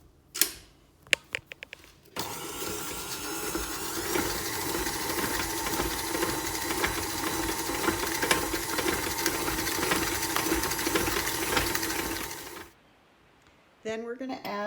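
Electric mixer blending a cup of butter with sugar for almond butter cookies, a steady loud mechanical whir and rattle running for about ten seconds, preceded by a few clunks and a brief voice, then cutting off abruptly before more clatter.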